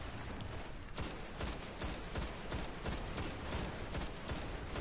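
Rapid gunfire aimed at an enemy tank in the video game Destiny, a dense string of sharp repeated shots at a fast even rhythm over a busy battle din.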